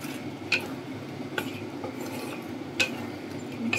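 Ingredients for sweet and sour pork ribs being mixed in a bowl, with a few light clinks of a utensil against dishware spaced over a quiet background and no talk.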